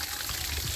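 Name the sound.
water being poured while watering chili plants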